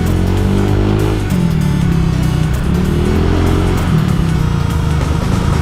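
Honda Vario 150 scooter engine while riding, a loud steady drone with shifting pitch as the throttle eases and picks up again, mixed with constant wind rush.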